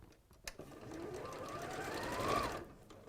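A sewing machine stitches a quarter-inch seam on quilt pieces, its motor whine rising and speeding up in one continuous run close by, then stopping abruptly near the end.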